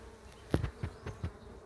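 A freshly caught honeybee swarm, settled into a hive, hums in a steady drone with several brief, louder buzzing bursts close by; no voices.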